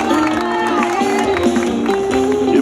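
Supporters of Brazilian state deputy Fábio Freitas cheering and clapping at a public panel event, a lively crowd noise with voices and shouts mixed over scattered claps, fairly close and loud.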